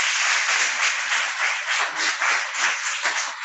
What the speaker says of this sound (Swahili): Sasa mpigie makofi